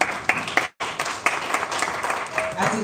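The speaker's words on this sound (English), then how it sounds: "Can Dr. Sudhir Ruparelia have another round of applause," Applause at an African awards ceremony, irregular bursts of hand clapping from a crowd with a short sharp cutout partway through, while talk carries on underneath.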